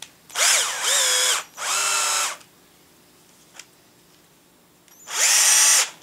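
Electric power drill driving a screw, three loud close whirring bursts with a quiet pause and a small click before the last burst, each run winding up and slowing as the screw seats.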